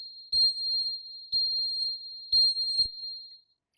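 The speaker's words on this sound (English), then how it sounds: "Now that alarm is the sensor that is located right behind this L-shaped stainless steel plate." Nozzle sensor alarm on a Pack Leader FL-14 filler machine gives three or four evenly spaced, high electronic beeps, each sustained for about half a second, clean and alone with no talk.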